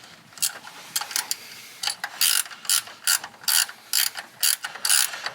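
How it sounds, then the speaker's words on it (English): Repeated clicking bursts from a ratchet wrench as a nut is tightened on an S10 motor mount for a K24 swap, heard close in quick, regular strokes over faint background noise. "bolt it to the chassis, put your nut on top, tighten it down"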